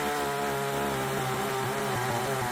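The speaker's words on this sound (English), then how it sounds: "You can actually hear when the saw is under load, and that sound becomes a good indicator for how hard you can push it." A cheap chainsaw mills hardwood with its engine under load, a loud steady buzzing drone with shifting pitch as the bar bites into the cut, close up and continuous without voices.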